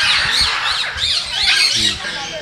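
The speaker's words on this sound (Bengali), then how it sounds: "দেখেন পাখিগুলো খুব সুন্দর" Captive birds in an aviary at Bangabandhu Safari Park give repeated shrill squawks and chirps close by, with people's voices murmuring underneath.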